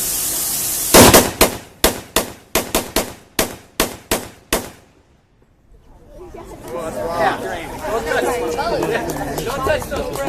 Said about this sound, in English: That was Browning automatic rifle.